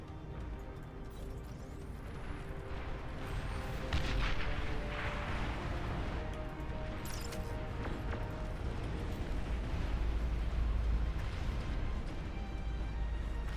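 Nuclear missile launch and explosions in the real-time strategy game Beyond All Reason, a dense battle soundscape of repeated booming blasts and artillery-like thuds over a continuous low rumble, moderately loud throughout.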